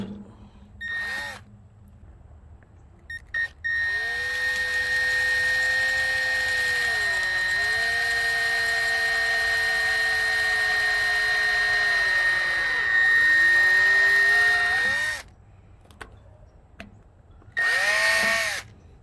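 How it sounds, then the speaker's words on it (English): An electric drill bores through a plastic plate for a homemade bird feeder, with a steady whine lasting several seconds that dips in pitch under load, plus short bursts before and after. "so I want to drill this."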